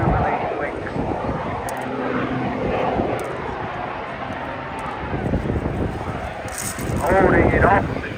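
A stunt aircraft performs at the Eastbourne air show, its propeller engine droning steadily against wind noise, then swelling as power comes back on, with someone talking over it.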